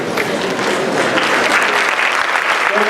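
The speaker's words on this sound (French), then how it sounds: "je vous prie de bien vouloir vous tenir debout pour accueillir sous vos ovations et acclamations nourries" A standing audience at a formal reception in Côte d'Ivoire gives a loud, dense ovation for the Governor General of Canada, continuous clapping throughout with no voice over it.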